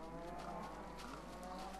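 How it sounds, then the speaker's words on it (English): Several cows in the Minecraft video game moo in overlapping, low, drawn-out calls. The sound is faint and muffled under a steady background rumble, with no talk. "This is my batch of horrifically inbred cows."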